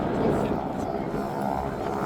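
Boeing PT-17 Stearman biplane engine drones steadily at a Duxford air display during a wing-walking routine, a continuous broad propeller roar, with a commentator talking over it throughout.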